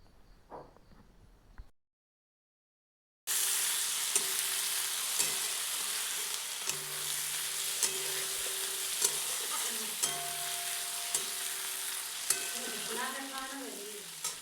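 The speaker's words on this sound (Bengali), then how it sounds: "তো এগুলি আরও কিছুক্ষণের জন্য ভেজে নেব।" Tomato with chopped chillies fries in a pan for a village-style onion pasta, a continuous close sizzle with intermittent scraping and stirring clatter, following a quiet opening and a short gap.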